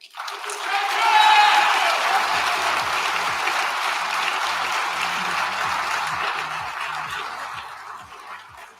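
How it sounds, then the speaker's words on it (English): An audience at a national conference in Orlando applauds award fellows, a sustained wash of clapping from many hands that swells quickly and holds steady for several seconds before thinning. "one more round of applause for our TAC fellows"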